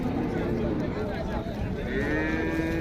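At a busy livestock market in Tiruppur, cattle low amid a crowded, noisy background. People talk nearby, and a drawn-out moo rises near the end.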